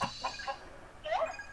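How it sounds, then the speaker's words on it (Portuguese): Chickens in the Mini World video game clucking, short soft bursts near the start and a louder clucking call near the end, faint against a quiet background. "As galinhas ainda estão aí?"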